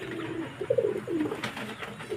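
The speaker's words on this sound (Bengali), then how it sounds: "অনেকগুলো সাদা সবুজ পায়রা দেখুন" White and green pigeons coo in soft, repeated throaty phrases, fairly close, with a faint background hum.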